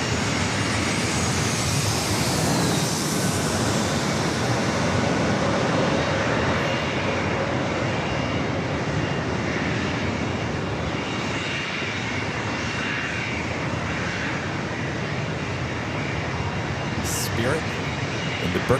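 Engines of a Spirit Airlines jet airliner in birthday cake livery roar at San Diego airport, loudest early on and easing slightly as it passes, with voices talking over the noise.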